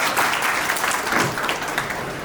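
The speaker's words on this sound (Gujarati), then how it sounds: "જોરદાર તાળીઓના ગણગણાટથી વધાવી દઈએ" Loud audience applause fills a hall at a carpenter community seminar, many hands clapping densely and steadily, with no speech over it.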